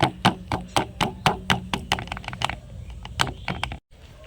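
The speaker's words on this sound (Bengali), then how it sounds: "এখন থালাটা একটু ঠুকে ঠুকে নেব" A ghee-greased metal plate holding rice batter is tapped repeatedly against a surface, a quick run of sharp, evenly spaced knocks up close that slows and thins out before stopping abruptly.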